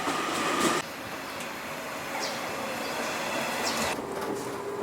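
A train in Japan rumbles steadily with a broad wash of rail noise, faint squeals and clatter on top, and no voices.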